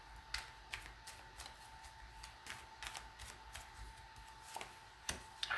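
Tarot cards being shuffled during a reading, giving repeated quick riffling flicks and soft papery snaps over faint steady background hiss, with no talk.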